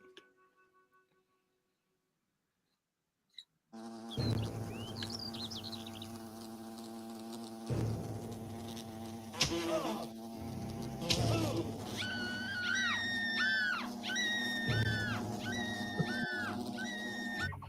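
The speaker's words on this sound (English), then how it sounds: "That's some serious wasps. Yeah, bloody Australian wasps." Large Australian wasps in a video game give a loud, close, steady buzz over low game ambience. It starts suddenly after near silence, and whining tonal sweeps and sharp thumps break in repeatedly.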